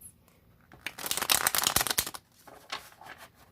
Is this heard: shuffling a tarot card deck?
yes